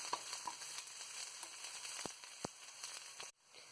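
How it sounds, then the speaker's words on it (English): Onion frying in a pan with curry leaves for mango rice, a soft, steady sizzle punctuated by occasional sharp pops and light stirring clicks, ending abruptly. "So I'm just frying onion until it has become little brown."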